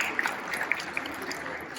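Audience applause at the Colombia 4.0 video games conference: a short, steady wash of clapping from a crowd with a few sharper individual claps standing out, a murmur of voices underneath.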